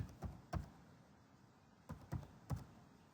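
A handful of soft keystrokes on a computer keyboard come in two quick pairs and a short cluster, faint and close, with a quiet room hum between them.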